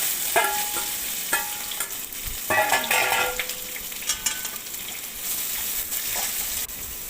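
Onion, green chilli and curry leaves sizzling in hot oil in a pan for a beetroot stir-fry, a steady hiss broken by several sharp clinks and scrapes of a spoon stirring against the pan.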